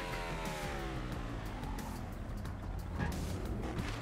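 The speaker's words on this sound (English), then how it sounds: "Dirt bike." Engine of a dirt bike in the Trials Fusion video game, revving and whining up through rising pitch sweeps with steady motor drone, continuous and close, no speech.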